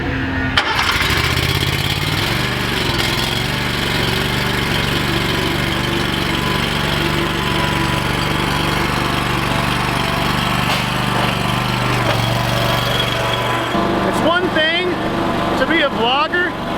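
A Gravely lawn mower engine turns over and settles into a steady, loud running drone that continues throughout, with a brief shift near the end; a voice talks faintly over the engine noise.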